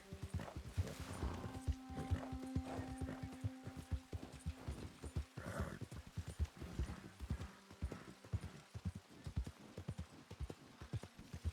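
Horse hooves clip-clop at a walking pace in the Red Dead Redemption II game world, a steady close rhythmic clatter with a brief whinny partway through and no talk.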